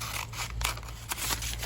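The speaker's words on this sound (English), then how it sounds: "Scissors, please." Scissors snip through paper while vintage supplies are prepared for crafting, a few crisp close cuts over a steady background hum.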